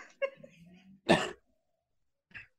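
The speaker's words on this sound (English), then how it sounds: "I think I coughed up a little bit of blood there." A person gives a single harsh, close cough, preceded by faint murmuring and followed later by a shorter, quieter burst.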